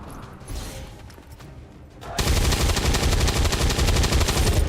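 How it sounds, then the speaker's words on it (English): Gunfire aimed at a turret in the video game XCOM 2. A loud, rapid burst of shots starts abruptly partway through and keeps hammering steadily to the end, after quieter game ambience. "I think we just shoot the turret here."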